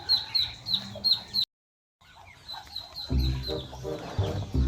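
Young duck chicks peep in rapid, repeated high chirps close by, broken by a short silence, then resume over louder low rustling and thumping.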